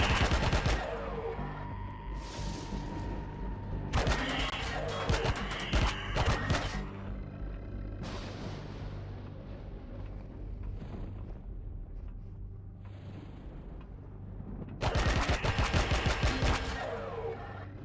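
Epic minigun fire in the game Empyrion Galactic Survival: loud sustained bursts of rapid automatic shots, with gaps of rumbling impacts and explosions between the volleys.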